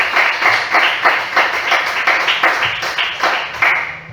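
A church congregation claps in a loud, regular rhythm, roughly two claps per second in unison, steady and close throughout with a slight trailing off at the end.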